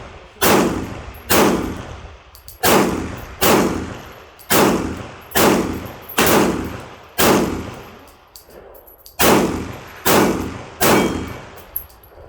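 A Glock 22 pistol fired from an SGM Tactical extended magazine, a loud close sequence of about a dozen sharp shots at an uneven, roughly one-per-second pace, each ringing out briefly before the next.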